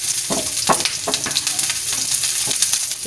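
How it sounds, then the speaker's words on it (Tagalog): Garlic and onion sizzle steadily in hot oil in a pan, with close, rhythmic stirring scrapes cutting through the constant frying hiss. "magigisa ako ng bawang at sibuyas."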